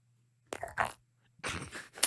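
A crunchy burger bitten and chewed close to the microphone: two short crisp crunch bursts, a brief pause, then a longer loud crunching stretch ending in a sharp bite, with no talk.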